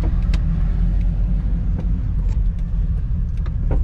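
A Fiat Uno car idles or rolls in with a steady, close, low engine rumble that stays even throughout, with no talking.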